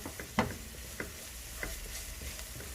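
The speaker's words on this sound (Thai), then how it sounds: "เดี๋ยวผัดให้หอมก่อน" Spicy seafood spaghetti being stir-fried in a pan, a soft steady sizzle with a few sharp scrapes and taps of the utensil against the pan, fairly quiet and without talk.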